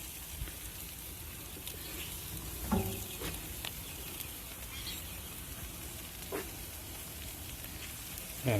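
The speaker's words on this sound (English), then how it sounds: "You can hear the sizzle" Faint, steady sizzling hiss of chicken tikka cooking on a hot grill, with a few soft clicks and taps scattered throughout.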